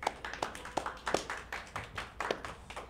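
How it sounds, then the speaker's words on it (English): A second-grade class claps in a loose, uneven patter of individual hand claps, fairly faint and sparse, as though only a few children are applauding at once. "Give yourselves a round of applause."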